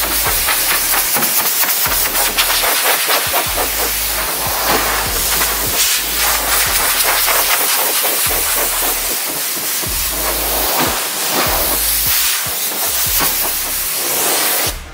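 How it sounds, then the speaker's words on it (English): A small, cheap air compressor running in a waterside workshop, a loud continuous mechanical chugging with hissing bursts and rhythmic pulses throughout, no talking. "I'm running on a little cheap one that I bought"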